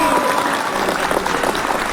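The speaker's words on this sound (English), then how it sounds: "do we clap now or later? Okay, let's do it now." A studio audience at a live morning news podcast taping claps steadily and densely for two seconds, a close, sustained round of applause with faint voices underneath.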